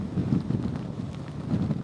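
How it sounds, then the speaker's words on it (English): Strong wind from Hurricane Laura makes landfall as a category 4 storm in Beaumont and buffets a reporter's microphone outdoors with a continuous low, gusty rumble. "the wind has certainly picked up"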